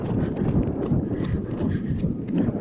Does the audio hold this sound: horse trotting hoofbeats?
yes